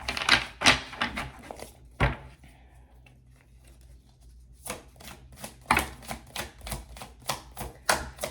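Quick papery riffles and slaps of tarot cards being shuffled close up, in bursts with a short pause in the middle, no talking.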